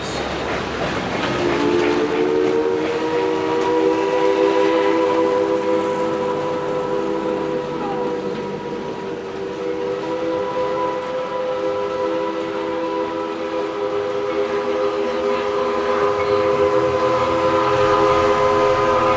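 A heritage steam train's whistle sounds a long, loud chord over the rolling rumble of the train at Tweetsie Railroad, fading slightly then swelling again near the end.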